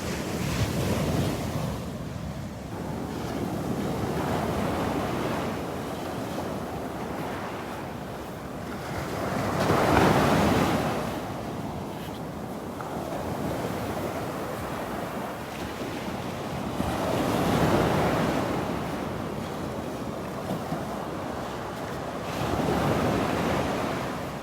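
Ocean surf rolling onto the beach at Delnor-Wiggins, a continuous wash of waves with slow swells cresting every several seconds, mixed with steady wind buffeting the microphone, and no voices.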